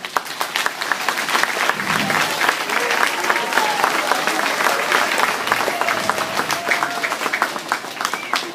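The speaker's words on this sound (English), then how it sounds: "Give these two guys a round of applause." An elementary school audience claps steadily and loudly for two students, dense applause with occasional voices and whoops rising through it.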